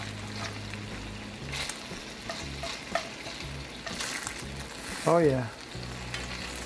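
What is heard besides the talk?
bacon sizzling in cast iron skillet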